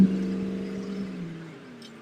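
Steady road traffic rumbling nearby outdoors, a low droning hum with a passing vehicle fading away toward the end, no voices present.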